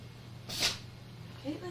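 One short sneeze bursts out near the middle at close range, quiet and sharp against a low steady hum, followed by a faint murmur.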